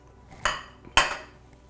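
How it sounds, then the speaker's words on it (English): Two sharp clinks of a utensil against a bowl ring out about half a second apart as sugar and salt are mixed into a meat bun filling. "And we're just going to mix those items together."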